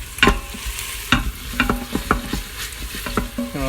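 Food sautés in oil with turmeric inside an Instant Pot, a soft sizzle under repeated clinking and scraping strokes of a spoon against the metal inner pot, close and moderately loud with no speech.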